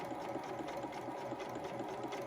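Juki sewing machine stitching a fabric face mask, its needle running in a fast, steady mechanical whir up close.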